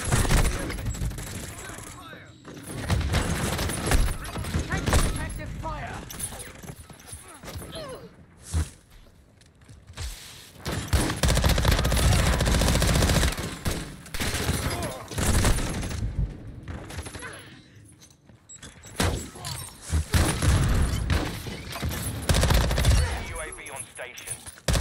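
Shotgun blasts and rapid gunfire from the shooter game Blue Estate come in dense loud bursts with short pauses between them, with a voice talking over the shooting.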